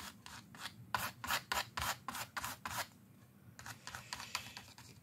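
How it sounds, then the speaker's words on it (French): Card scraping across wet paint on a mixed media artwork: a rapid run of rhythmic rasping strokes, close and fairly loud, then a short pause and a few softer, scratchier passes. "je gratte un peu sans trop plier ma carte."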